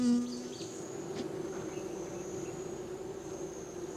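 Field bees gathering nectar and pollen make a faint, steady buzzing hum that runs unbroken throughout, with no voices present.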